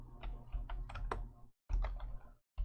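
Someone types a caption in Korean on a computer keyboard, producing a close, quick run of light key clicks. A brief pause breaks the run before a few more taps follow.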